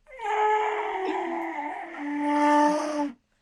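A person imitating the low horn call of a Parasaurolophus, one sustained hooting, wavering tone about three seconds long, close and fairly loud, with no talking.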